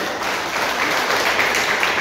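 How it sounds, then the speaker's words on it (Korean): Applause at a party candidate forum held in a YMCA conference room, an even wash of many hands clapping throughout, fairly loud and unbroken. "큰 박수 부탁드리겠습니다."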